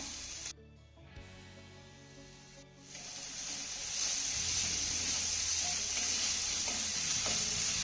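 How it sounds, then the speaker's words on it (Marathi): Chopped onion and tomato sauté in a hot pan, a steady frying sizzle that grows louder and denser after a few seconds, with occasional stirring scrapes close by. "आता यामध्ये आपल्याला एक बारीक चिरलेला टोमॅटो घालायचा आहे आणि तो देखील छान असा मौसूत होईपर्यंत परतून घ्यायचा आहे"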